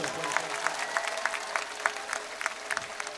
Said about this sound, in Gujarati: જોરથી તાળીઓ પાડો લે મને ખબર પડે